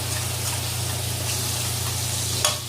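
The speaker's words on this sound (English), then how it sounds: "So I'm just going to let these saute for a little bit." Chopped tomatoes and onions sauteing in a pan for Jamaican ackee and saltfish, a steady close sizzle with soft stirring scrapes and a low constant hum, no talk.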